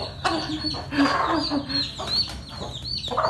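Chickens cluck and squawk close by in a series of short, irregular calls, with a low steady background hum and no talk.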